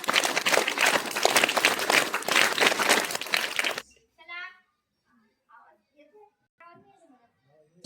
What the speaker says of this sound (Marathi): आपल्या शुभेच्छा देऊया. टाळ्या वाजवा.